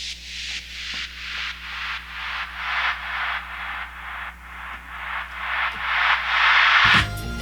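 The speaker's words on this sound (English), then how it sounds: "it starts out with a really big white noise cascade" Loud swells of a white noise cascade in a disco beat pulse in a steady rhythm, about two per second, building slightly before cutting off abruptly; no voices.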